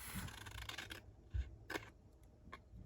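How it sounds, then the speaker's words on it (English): Scissors cut a strip of paper for a traveler's notebook folder insert, a few quiet crisp snips close by with brief pauses between them, no talking. "you're going to cut on that longer strip an angle to that other corner down here. And you're going to cut that off"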